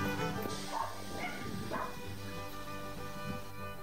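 A dog barks a few times in short yips amid steady background noise and faint voices, the barks moderately close.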